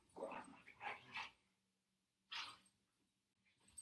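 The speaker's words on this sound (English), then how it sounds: "my dogs are on the other side of the door wrestling" Dogs bark and yip in short bursts while wrestling and playing on the other side of a closed door, with a cluster of barks early, a pause, then another sharp bark followed by quieter scuffling sounds, muffled and moderately distant.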